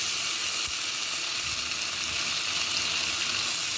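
A ground paste of ginger, cumin, fennel seed, garlic and onion sizzles in hot oil with a loud, continuous, close-up hiss that holds steady throughout, with no talking.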